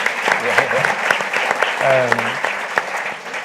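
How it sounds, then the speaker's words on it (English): A crowd claps steadily for a few seconds, a dense patter of hands with a brief voice or cheer rising through it. "let's have a round of applause for that"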